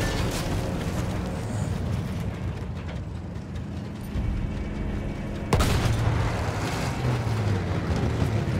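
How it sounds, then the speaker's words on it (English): Battlefield 1 campaign explosions on a World War I battlefield, heavy continuous booming and rumbling with a sharp louder blast near the middle, followed by sustained roaring low-end din. "Just love the explosions in the campaign,"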